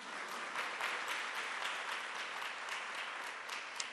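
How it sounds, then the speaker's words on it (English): Sustained applause from an audience at a New York State paid leave announcement, a dense even wash of many hands clapping at moderate level with no talking over it. "We should clap it up for that as well."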